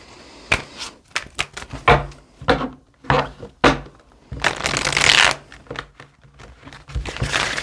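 Tarot cards shuffled by hand, a run of crisp riffling and slapping bursts at an uneven rhythm, building to a dense flutter of cards near the end, close and fairly loud with no talking.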